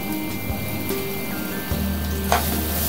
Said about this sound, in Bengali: এখন আমি ঘিটা হালুয়ার মধ্যে দিয়ে দিব